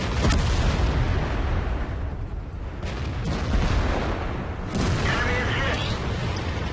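Tank cannon fire in World of Tanks, heavy booming shots over a continuous rumbling battle bed, with a sharp blast near the start and another loud burst later, all under steady engine noise.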